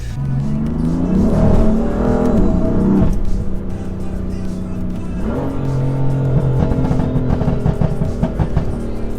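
BMW M3 producing 580 horsepower, fitted with a very loud exhaust, revving hard and loud up close, rising and falling in two long surges with crackling pops between the pulls.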